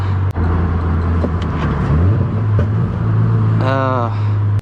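A manual car's engine rev-matching on a downshift from third to second gear, a low steady engine drone under continuous talk, ending with a brief rising blip of revs.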